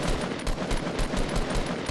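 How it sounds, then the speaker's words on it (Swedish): Rapid automatic gunfire in the video game Fortnite, a fast rhythmic burst of around a dozen sharp shots over two seconds, fairly loud and continuous with no speech over it. "Ett skott."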